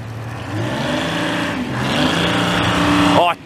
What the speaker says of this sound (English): Oh, tabarnak, that's a V12, man. That's a diesel, man.